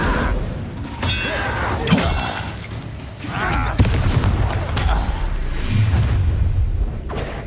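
Incendio fire spells cast during Hogwarts Legacy combat, several loud whooshing blasts with crackling bursts, each spaced a second or two apart over a noisy battle.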